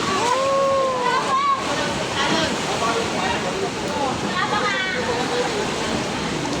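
Floodwater sloshes and churns through a deeply flooded city street, a continuous loud watery wash with splashing surges, and faint tonal sounds drift above it.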